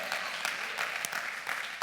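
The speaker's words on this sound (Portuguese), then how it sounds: "Pode aplaudir a Ele." A church congregation claps together during a sermon, a brisk continuous patter of many hands filling the whole short moment at moderate loudness.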